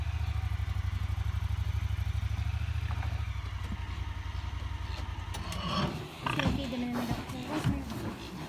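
Pigs grunt and oink as they are loaded on a homestead. A low, steady engine-like rumble comes first, then clattering, scraping handling noises and people's voices.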